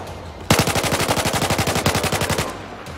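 Automatic gunfire in Battlefield 4: one loud, rapid burst lasting about two seconds after a brief lull, with evenly spaced shots and no voices.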